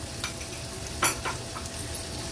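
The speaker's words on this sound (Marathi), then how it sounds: "नंतर एक मीडियम साइजचा कांदा आहे बारीक चिरून घेतलाय, तो देखील आपण फोडणीला घालणार आहोत" Bay leaf and finely chopped medium onion drop into hot oil for tempering, giving a brief burst of sizzling with a sharp crackle near the middle, then a softer fry continuing close by.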